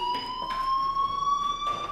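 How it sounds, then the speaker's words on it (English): A fire alarm sounds in the video game Life Is Strange, a loud continuous electronic tone rising slowly in pitch and pulsing at a regular beat, close and alone without talk. "Hey, do you hear that fire alarm?"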